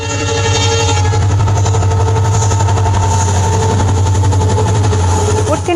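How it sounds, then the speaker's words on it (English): A train rolling over a jointed rail track with gaps between the rails, loud and close, a steady rumble with repeating rhythmic clatter throughout. "Listen carefully to the sound of train passing over this track."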